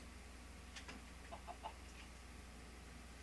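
A Minecraft chicken clucks a few times in quick, soft bursts, faint against a low steady background hum.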